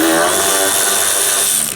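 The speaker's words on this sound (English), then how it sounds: "normally I don't like to use power tools in this" Pneumatic or electric power tool spinning nuts off during the teardown of a 1965 Chevrolet C10 pickup, a loud, steady high-pitched whine running continuously for nearly two seconds before tapering off slightly at the end.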